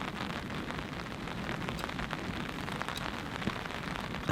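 Steady rain falls on a forest campsite during a storm, a dense continuous patter of drops on surfaces with occasional louder taps, close and even throughout with no talking.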